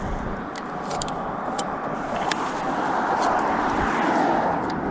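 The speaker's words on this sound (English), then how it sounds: "Just got to wait for these cars." Cars pass close by on a road beside a roadside drain, a continuous loud rush of tyres and engines that swells slightly toward the end, with faint higher clicks and rattles over the top.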